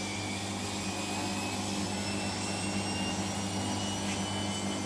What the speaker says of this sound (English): Alright guys, so its final spin.